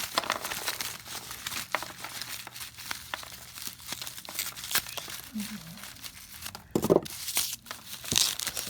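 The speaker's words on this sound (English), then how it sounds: "it's not as easy as I thought to cut these roots and through these" Dry, hard Catasetum orchid roots being cut during repotting give off scattered crunching, tearing and crinkling snaps, close and moderately loud, with a voice talking through much of it.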